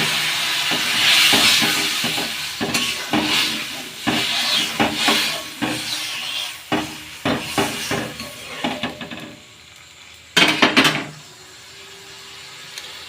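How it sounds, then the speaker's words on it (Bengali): A pan of soya masala chili sauce sizzles and hisses loudly on the stove, with bursts of spitting and a few clinks of utensils against the pan before the sound drops to a quieter simmer near the end. "এবার আমি এটাকে 5 মিনিট ছেড়ে দেবো, যতক্ষণ না এটা ফুটে আসছে।"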